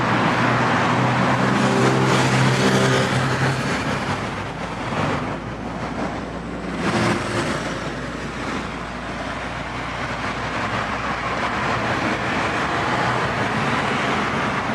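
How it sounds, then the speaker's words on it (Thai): A 2015 Ford Ranger Wildtrak 2.2 diesel pickup engine runs steadily nearby, a broad rumbling drone with a low hum underneath and slight swells in loudness throughout. "มาฟังเสียงเครื่องกัน ดูความไวในการสตาร์ครับ รถสตาร์แล้ว"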